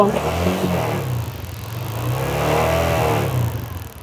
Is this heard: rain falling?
no